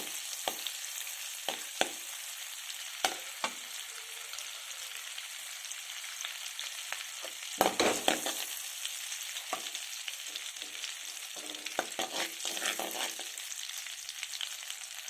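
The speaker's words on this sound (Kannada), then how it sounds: "ಪಟಪಟ ಅಂತ ಇದೆ ಸಾಸಿವೆ" Mustard seeds crackle and pop in hot oil in a tava pan as tawa pulao gets started, giving a steady sizzle with sharp, irregular pops throughout. No one speaks over it.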